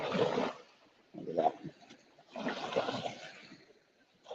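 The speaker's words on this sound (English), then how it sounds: "Well, listen to the wave." Waves wash in bursts onto the bay shore at a park, with broad surging rushes rising and falling about three times, each followed by a quieter lull.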